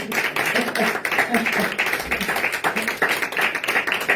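Congregation clapping steadily through a lively church service on New Year's Eve night, dense rhythmic hand claps blended with singing and voices, loud and continuous throughout.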